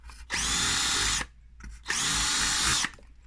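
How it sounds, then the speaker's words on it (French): Power drill boring holes at marked spots while mounting a Mecaflex bracket, two sustained loud high-pitched whirring bursts of about a second each, separated by a short pause, no talking. "je vais faire mes trous avec ma perceuse là où j'ai fait les marques"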